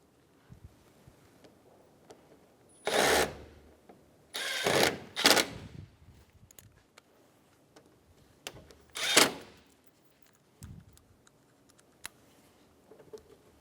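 Phillips head screws are driven into a Chevrolet Sonic headlight bracket, with several short close bursts of tool noise separated by quiet pauses and faint clicks.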